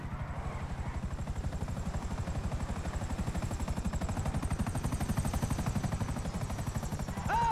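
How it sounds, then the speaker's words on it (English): A helicopter in Grand Theft Auto V gives a steady, fast rotor chop that carries loudly throughout and stays close. Faint game noise sits beneath it, and no one speaks. "Another chopper."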